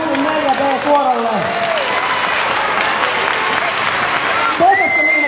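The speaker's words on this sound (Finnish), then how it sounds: "Annetaan isot aplodit Kulju 4B-kuorolle." An audience gives loud, sustained applause for a children's school choir, many hands clapping in a steady wash, with children's voices and a bit of cheering audible at the start and end.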